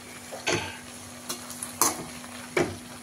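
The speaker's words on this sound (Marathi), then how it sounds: "मंद गॅसवरती आधेमध्ये हलवत कांदा आपल्याला पूर्णपणे भाजून घ्यायचा" Onion stirred over low heat in a pan while roasting for a Kolhapuri onion-garlic masala chutney, with several distinct scraping stir strokes over a soft continuous sizzle; no talking.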